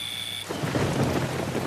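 Steady heavy rain with a rumble of thunder, broad and close, swelling in after a brief quieter start and continuing without any talk.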